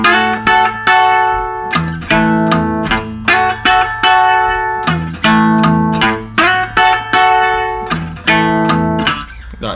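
The second bar of a delta blues song, played on guitar: loud, close picked notes and bass strings in a rhythmic delta blues pattern, ringing alone with no voice.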